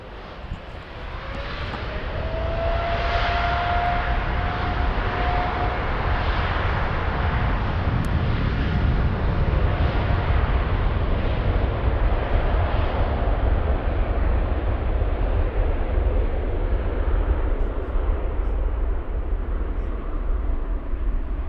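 An airliner takes off at Frankfurt airport in the evening. A broad jet roar rises and holds steady for about twenty seconds, heard from a distance, without speech.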